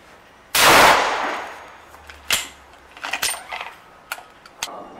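A .308 Winchester rifle fires a .22 caliber accelerator load with a single loud, sharp blast near the start, followed by quieter clicks and handling noises.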